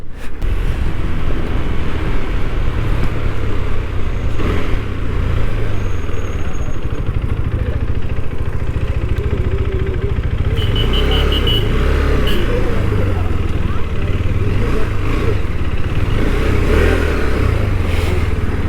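A KTM Adventure 390 motorcycle engine drones steadily through a ride back to the showroom after a test ride, with low rumble and wind roar and occasional faint revving, loud and continuous throughout.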